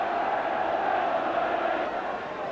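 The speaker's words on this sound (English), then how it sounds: "And the crowd reminding anybody who hasn't noticed what the score is" A football crowd at an early-1980s Barnsley match chants together in a steady, massed roar of voices, continuous and fairly loud throughout, heard from within the stadium atmosphere.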